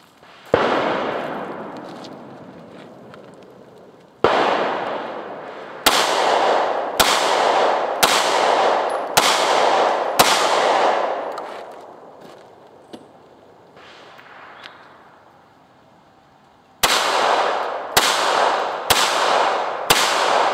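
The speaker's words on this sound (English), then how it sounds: "So I'm gonna fire a few rounds downrange." Pistol shots from an XD Sub-Compact and a Walther P22 are fired downrange, loud sharp cracks with ringing echoes. They come singly and then in quick runs of several, with pauses in between.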